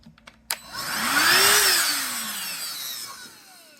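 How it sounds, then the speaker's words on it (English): A DeWalt cordless hand vacuum switches on after a few clicks and whines steadily, its pitch rising and then falling as it runs close by with no talking. "This is the DeWalt hand vac."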